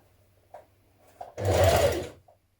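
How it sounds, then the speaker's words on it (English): A sewing machine runs one short burst of stitching along the crease at the back neckline of a spring dress, with the binding in place. Quiet handling clicks come before it and after it. No one speaks. "We're going to stitch in that crease around the back of the neck"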